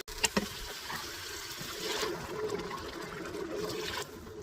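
Water is poured into an Instant Pot holding tomato rice with garam masala, giving a steady trickling splash that runs for several seconds, close and fairly loud, with a few sharp knocks near the start.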